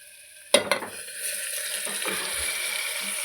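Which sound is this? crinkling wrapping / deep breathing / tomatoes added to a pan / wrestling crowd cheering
tomatoes added to a pan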